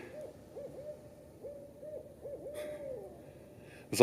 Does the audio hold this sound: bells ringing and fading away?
no